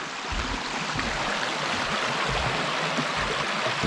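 A small creek flows beneath a trail bridge in the Blue Mountains, a steady, close rushing and burbling of water that holds an even level throughout, with no voices.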